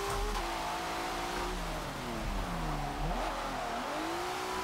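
A Mazda RX-7 FC drift car's engine revs hard in gear at a drift competition, the pitch climbing and dipping continuously over a loud, steady roar with no break.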